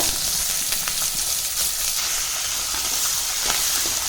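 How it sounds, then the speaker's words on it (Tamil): A handful of garlic sautéing in hot oil with fenugreek seeds for a ladies finger tamarind curry gives a dense, steady close sizzle with faint stirring taps, loud and continuous, and no voices. "பூண்டு பார்த்திங்கன்னா நல்லா கொஞ்சம் வதங்கட்டும்"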